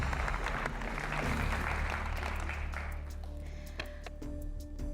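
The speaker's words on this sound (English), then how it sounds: "A round of applause, please, ladies and gentlemen." Audience applause at a university quiz challenge, a soft continuous patter of many hands that gradually thins out toward the end.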